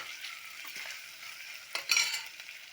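Onions fry in a pan while lunch is cooked, giving a soft, steady sizzle with a few brief stirring scrapes and a slightly louder burst near the end.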